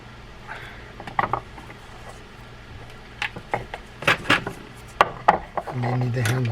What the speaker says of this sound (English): I'm going to remove the three screws here that are holding this on.